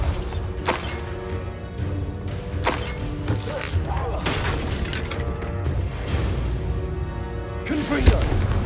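Bombarda spell explosions in Hogwarts Legacy go off as several heavy booms and thuds at irregular intervals, with whooshing spell effects and game voices mixed in.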